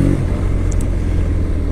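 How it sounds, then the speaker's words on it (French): A BMW R nineT Pure motorcycle engine, a 2022 model, pulls in third gear with a slight judder. It gives a steady, loud, low rumbling drone that lasts throughout, with no voices. "Ah par contre on sent que la reprise en troisième, elle broute un peu sur la 3."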